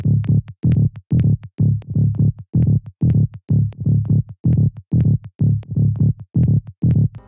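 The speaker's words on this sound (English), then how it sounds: "The bass layer was also made with the Serum." A tech house synth bass layer built in Serum with Decapitator saturation and EQ, pumping in short, punchy, evenly spaced notes in a steady driving rhythm, loud and dry with no voices.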